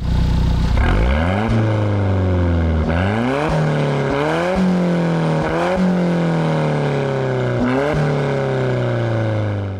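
The 1.75-liter four-cylinder engine of an Alfa Romeo 4C Spider revs repeatedly, each rise in pitch climbing through the gears before dropping, loud and close, in a series of pulls.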